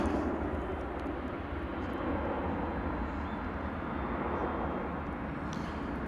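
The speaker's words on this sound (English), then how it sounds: "This is a 737-800 on its way to Cancun in sunny Mexico." A Boeing 737-800 airliner bound for Cancun departs DFW International Airport, its jet engines producing a loud, steady, broadband roar that holds without letup throughout.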